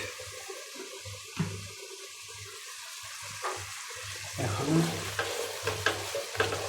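Masala fries in a covered pan before kingfish is added, a low bubbling sizzle with intermittent stirring clatters and a few louder scrapes toward the end.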